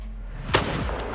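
A single sharp rifle shot rings out at an elk in a Rocky Mountain hunting game, a brief loud crack followed by a rolling echo over a low ambient background.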